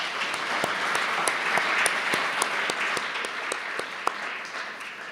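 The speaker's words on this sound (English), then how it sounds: "I think we can give them another round of applause." An audience at a public memorial lecture gives a sustained round of applause, a broad even patter of many hands with a few sharper individual claps standing out.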